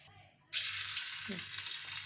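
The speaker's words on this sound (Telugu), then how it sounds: "ఇట్లా ఆయిల్లో లైట్గా ఒక హాఫ్ మినిట్ వన్ మినిట్ వేయించుకుందాం" Paneer pieces hitting hot oil and frying lightly, a sudden loud hiss that starts abruptly and then holds as a steady, close sizzle.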